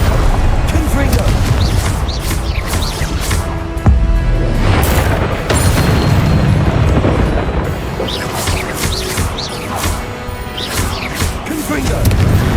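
Booming Confringo blasting-spell explosions from Hogwarts Legacy on PS5, loud and repeated through a dense battle mix, with a sharp blast near four seconds and shouted voices running underneath.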